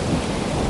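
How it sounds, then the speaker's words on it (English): Heavy thunder rolls over a picnic spot in the Netherlands as a rain cloud moves in, a loud, continuous low rumble filling the whole moment with no break or voice. "just when I sat down at this picnic table there I heard thunder"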